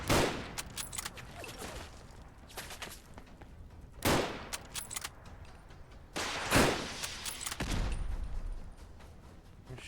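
Gunfire and missile blasts in the video game Fallout: London, coming as repeated loud bursts of shots with sharp impacts at intervals and rattling fire between them, close and dominant.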